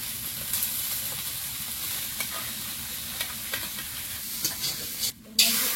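Potatoes with five-spice (panch phoron) and a little garlic fry in a pan, with a steady hiss of oil and occasional scrapes of stirring, one louder clatter near the end.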